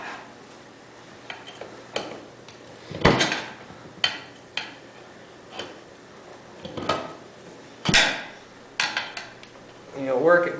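A screwdriver prying the tire bead off a tubeless ATV rim near the valve stem, irregular metallic clanks and scrapes against the wheel, several sharp knocks spaced apart amid rustling.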